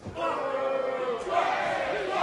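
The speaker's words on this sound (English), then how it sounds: "the crowd very much expressing their opinions in this match" A wrestling crowd at a KO/submission match shouts and roars together, a loud sustained chant of many voices that swells midway and stays strong to the end.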